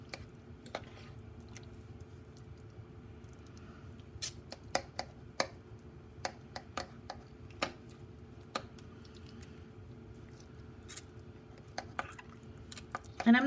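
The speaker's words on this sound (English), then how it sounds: "I'm going to give it a good stir so it's cooking evenly." Shredded chicken stirred in a pot for a hot chicken queso dip, soft scattered clinks and squishy scrapes at irregular intervals over a quiet background, close and fairly faint.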